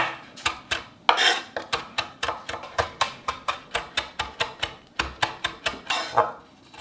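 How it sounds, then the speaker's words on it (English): A knife finely chops parsley on a board in a steady run of about twenty crisp, evenly spaced strikes, close and clear, with no voices. "I'm going to finely chop some parsley"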